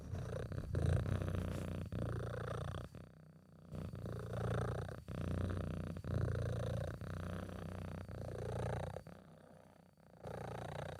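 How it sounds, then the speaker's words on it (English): A pet cat purrs close to the microphone in a low, rumbling rhythm of repeated breaths, each cycle swelling and fading with brief pauses between. "Can you hear that? Purring around the world."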